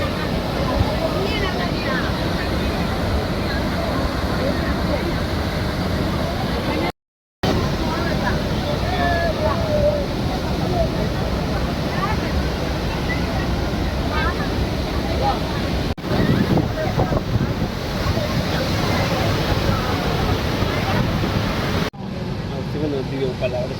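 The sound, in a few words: Athirapally waterfall, water crashing with force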